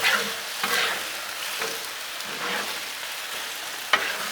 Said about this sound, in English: Just need to mix it all together.